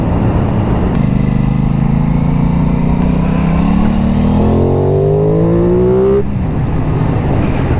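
An Aprilia Tuono 660 (2021) motorcycle engine drones steadily, then its pitch climbs as it accelerates toward about 7,000 rpm, loud and close, before easing off near the end.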